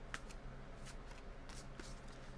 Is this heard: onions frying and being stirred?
no